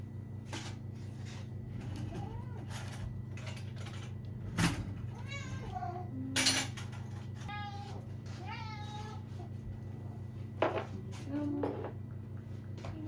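Several cats meow repeatedly for an Easter treat indoors, rising and falling calls scattered across the stretch, close and moderately loud over a steady low hum, with a few knocks like a cupboard or container being handled.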